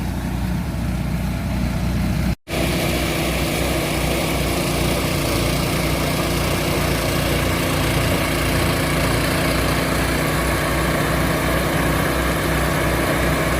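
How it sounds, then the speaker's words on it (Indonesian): A rice threshing machine runs steadily in a paddy field, a continuous loud engine drone with a brief cut near the start, no voices over it. "terus dirontokin pakai mesin perontok itu"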